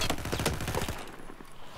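Rapid automatic fire from an AEK-971 assault rifle in Battlefield 4: a fast, tight burst of closely spaced shots lasting about a second, loud and close, then trailing off into a quieter tail with no voices.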